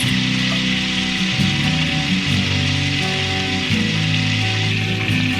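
Hot butter sizzles and crackles in a saucepan on the stove, a steady close hiss that runs unbroken throughout with no talking.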